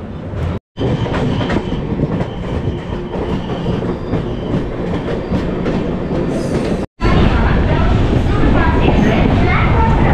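The Dhauli Express passenger train runs along the track with a loud, continuous rumble and rhythmic clatter of wheels on rails, briefly cut twice, and a voice speaks faintly under the noise.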